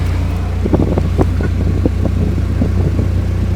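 Two 15-inch Q-Power subwoofers boom inside a small truck, a loud, constant low rumble with rattling, flapping buzz from the cab shaking throughout.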